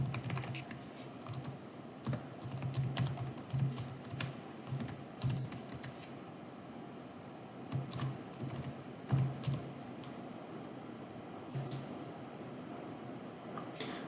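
Someone types a login on a computer keyboard with quick, soft, irregular key clicks that come in bursts and pauses, close and faint in a quiet room.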